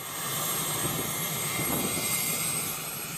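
A Philippine Air Force Sokol helicopter delivering relief items to Itbayat, Batanes drones steadily and loudly, a continuous engine and rotor roar that holds even throughout with no talking.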